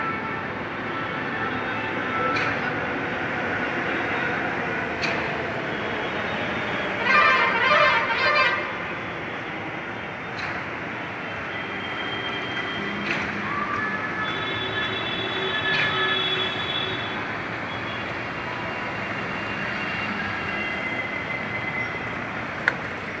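A metro train runs along elevated rails at an Ahmedabad construction site, a sustained rolling rumble with brief wheel squeals and metallic ringing midway, steady and fairly loud throughout, with no talking.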